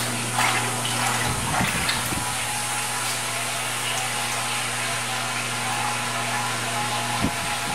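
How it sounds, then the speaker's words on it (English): Oil from buckets pours into a filter during biodiesel processing, a steady rushing liquid wash over a constant humming pump or motor drone, with a few knocks and a voice speaking at times. "just pour them into the top there. And those guys will drain."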